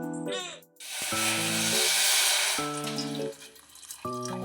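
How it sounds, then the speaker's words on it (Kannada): Water is poured into a hot pan holding onion, tomato and cashews, giving a loud, steady hiss and splash that lasts several seconds over a tonal background. "ಈಗ ಒಂದು ಸ್ವಲ್ಪ ನೀರು ಹಾಕಿಕ್ಕೆ ಒಂದು 5 ನಿಮಿಷ ಬೇಯಿಸ್ಕೋಬೇಕಿದು."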